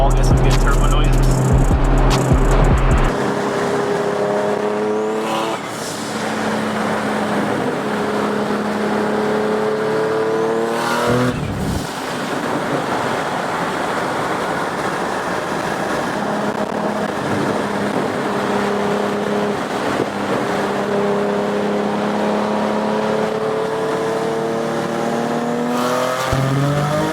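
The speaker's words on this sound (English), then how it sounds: "Get next to the wall, get some good turbo noises." A turbocharged Nissan 370Z engine revving close by beside a wall, with sustained rising and falling engine tones, turbo whoosh and flutter, and a sharp bang partway through, continuing loud throughout.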